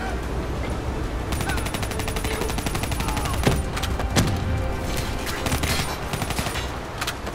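Dense gunfire from Call of Duty: Black Ops III fills the whole stretch, a steady rattle of rapid shots with a few heavier thuds mixed into the busy game noise.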